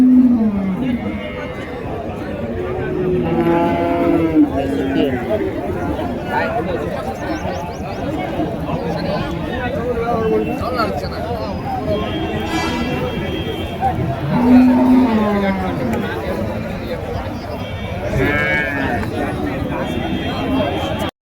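Low moos from cattle rise now and then at a busy rural cattle market in Uthangarai where draught bullocks and native cows are traded, under constant nearby talk and crowd chatter.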